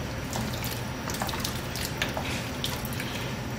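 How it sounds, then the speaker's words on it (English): Hot water is poured steadily into a pot of curry goat with pigeon peas, giving a faint, continuous splashing and trickling without anyone speaking. "That is hot water I'm putting in there just to cover everything."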